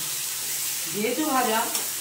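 Chana dal, moong dal and broken wheat dalia fry in a pan with a soft, steady sizzle, followed by a brief burst of stirring and scraping near the end; nobody speaks.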